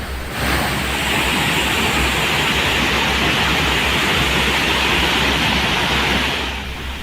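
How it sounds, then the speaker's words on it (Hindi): Floodwater pours over a renowned waterfall in Rohtas district in a constant, heavy roar that stays loud and unbroken from start to finish, with no talking. "अपार जल सैलाब की तरह झरने के नीचे गिर रहा है, निरंतर बेपरवाह बेहिसाब और सब कुछ बहा ले जाने को बेताब।"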